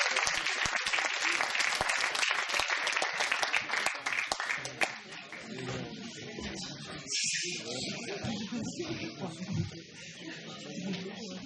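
Audience applause for Krav Maga martial arts performers at a stage show, dense clapping in the first half that thins out as music and voices take over.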